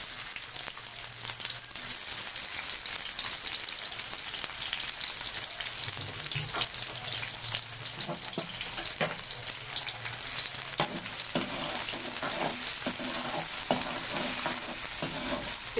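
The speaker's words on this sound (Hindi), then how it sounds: "डालेंगे ऑयल के बाद डालेंगे प्याज" Chopped onion fries in hot oil for dal, giving a dense, even sizzle that holds for the whole stretch with light stirring scrapes beneath and no voices.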